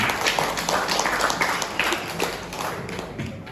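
Steady applause from a crowd at a regional election commission's year-end dialogue event, a dense wash of clapping that holds at even loudness throughout.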